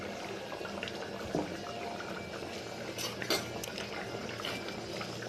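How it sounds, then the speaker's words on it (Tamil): A pot of dried-fish curry bubbles and simmers steadily on the stove, a soft continuous boiling hiss with a few faint clinks, no voices. "இங்கே வந்துட்டு குழம்பு கொதிச்சுட்டு இருக்குது"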